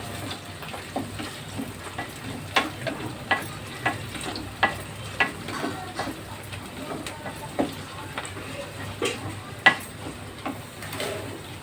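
Curry leaves drop into hot oil and sizzle steadily, with sharp crackles and pops scattered throughout at close range and no voices.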